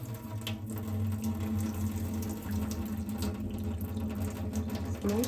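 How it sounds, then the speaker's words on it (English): Water is tipped out of a bowl holding chocolate in a home kitchen while baking Swiss Christmas cookies, a faint steady pouring and trickling with a low hum beneath it. "So now I try to tip out the water without losing the chocolate."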